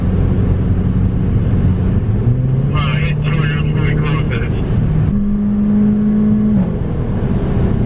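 A Mercedes-Benz CLA45 AMG on a German Autobahn gives a steady road-and-engine roar with rising engine tones as it accelerates, under someone talking from inside the car.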